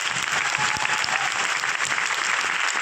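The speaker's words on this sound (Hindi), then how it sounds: "एक बार आप सबके लिए एक बार जोरदार तालियां" Loud, sustained applause from an audience at a launch event in a five-star hotel in Delhi, steady dense clapping filling the whole stretch without talk.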